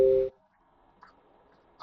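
An IoT smart lock sounds its access-denied alert after a rejected RFID attempt: a single loud, steady electronic tone lasting about a quarter second, followed by quiet with a couple of faint clicks.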